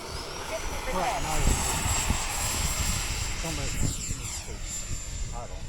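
A radio-controlled model airplane flies at Fritz Field, its engine droning and whining as it passes close and its pitch swoops with the fly-by. People talk over the engine noise throughout.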